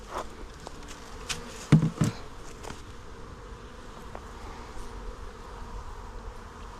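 Honeybees humming steadily in an opened beehive fitted with a scale and heat and humidity sensors, a close, continuous buzz with a few louder passes of individual bees near the start.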